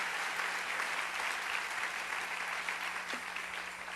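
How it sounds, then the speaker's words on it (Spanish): Church congregation applauding steadily, a dense wash of many hands clapping at an even level, fairly distant and alone without talk. "Denle un aplauso al Rey bendito."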